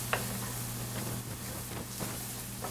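Onion, carrot and celery mirepoix cooking in a pan, a steady close sizzle with a few light ticks and stirring scrapes throughout.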